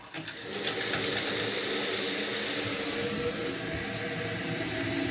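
Water gushes steadily from a faucet into a newly plumbed powder-room sink, a loud, continuous close-up rush that starts abruptly and runs on without any talk.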